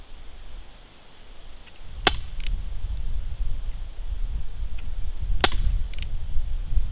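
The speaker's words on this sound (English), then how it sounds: "We'll do 5 shots." An Umarex Avera air rifle fires in sharp, distinct cracks, two clear shots a few seconds apart over a steady outdoor background rumble, each followed by a faint metallic ring.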